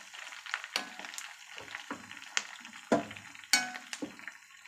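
Curry leaves and chana dal crackle in hot oil as a tempering for a mint pickle, with close, uneven bursts of sputtering pops over a soft background sizzle and no voices.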